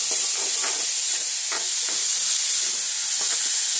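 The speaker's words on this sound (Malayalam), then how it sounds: "സവാള പെട്ടെന്ന് വെച്ച് കിട്ടാൻ വേണ്ടി നമുക്കൊരു കാൽ സ്പൂൺ ഉപ്പ് കൂടെ ചേർത്തേക്കാം നന്നായി ഇളക്കണം" Onions sautéing with salt in a pan, giving a steady loud sizzle and hiss with the occasional scrape of stirring, close up and with no voices.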